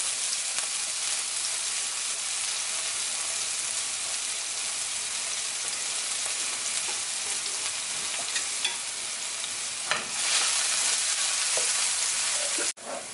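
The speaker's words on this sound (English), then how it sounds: "So guys, I have some oil in the pot. I'm going to add some onions." Onions and leek fry steadily in hot oil in a pot, a dense, even sizzle that holds the whole time, with a brief stir or clink near the end and no talking.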